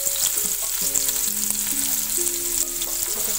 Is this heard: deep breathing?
no